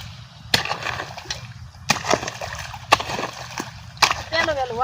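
Water is diverted into irrigation channels in a chili field, sharp splashes and sloshing bursts recurring at irregular intervals, close by, with voices talking over much of it.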